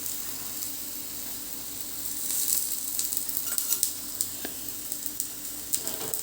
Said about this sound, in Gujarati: આ રીતે બંને બાજુ સરસ આવી ક્રિસ્પી થાય ત્યાં સુધી એને શેકી લેવાની છે